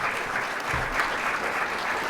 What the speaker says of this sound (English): give these dudes and gals a hand of applause because they're doing a great job